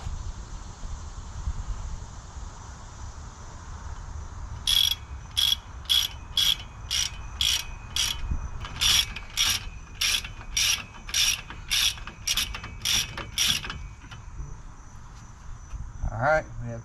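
Ratchet clicking on brake caliper bolts of a Ford Transit front brake, a run of sharp, evenly paced clicks in two bursts over a low background hum, fairly close.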